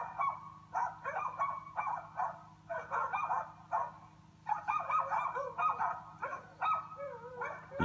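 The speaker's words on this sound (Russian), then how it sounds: "там собаки лают" Dogs near a forest hut in the Khanty-Mansiysk region bark and yip repeatedly at a moderate distance, irregular overlapping calls over a steady low engine hum.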